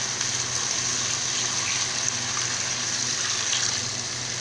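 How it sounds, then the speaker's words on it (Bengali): Water pours steadily into a pan of chilli chicken seasoned with black pepper, a continuous rushing gush that holds at an even level throughout. "পরিমাণ মতো জল আমরা দিলাম।"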